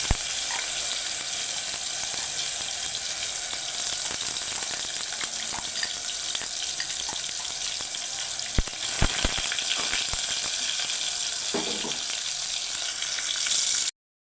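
Onion paste frying in a pan for chana masala gives a steady, close, loud sizzle that runs almost unbroken, with a couple of brief knocks and stirring sounds partway through.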